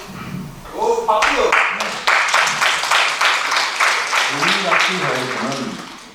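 Audience applause at a neighborhood citizens' dialogue meeting in Saerom-dong, a steady burst of clapping lasting several seconds with voices talking over it at the start and end.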